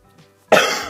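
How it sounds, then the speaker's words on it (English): A single loud, close cough bursts out after a near-silent stretch and trails off, heard during a Minecraft Pocket Edition gaming session. "There'd be too many coughs to edit out for a Let's Play series."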